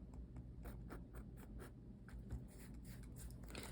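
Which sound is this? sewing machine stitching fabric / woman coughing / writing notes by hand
writing notes by hand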